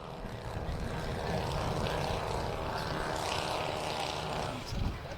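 A model aircraft at an outdoor air show, one engine out, comes in to land with a steady rough propeller drone that stays loud and close throughout, a brief low thump near the end.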